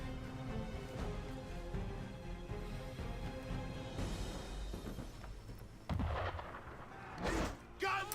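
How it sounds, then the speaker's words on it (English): Cannon and gunfire strike at a sailing ship in Assassin's Creed III, with rumbling booms and crackling blasts over a steady low roar of the sea, louder impacts landing near the end. "Why is he shooting at us?"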